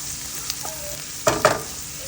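Ginger sizzles in a hot pan while being stirred for a Filipino pork curry, with a steady crackling fry and a couple of sharper scraping stirs near the end.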